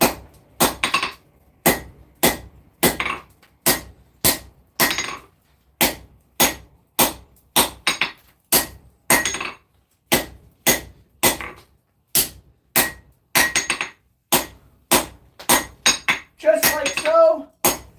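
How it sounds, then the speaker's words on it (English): A hammer forges down the red-hot point of a handmade knife blade in steady, evenly spaced ringing metallic blows, close and loud, with a brief spoken remark near the end. "nice and hot, and we're just going to start forging down this point."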